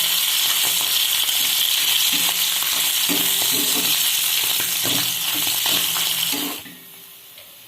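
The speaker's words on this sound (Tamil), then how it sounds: "கருவாடை போட்டு 1 நிமிஷத்துக்கு அப்புறம் கிண்டி விட்டுடலாம்" Dried anchovies frying in hot oil, a steady loud sizzle with occasional stirring scrapes, dropping off sharply near the end.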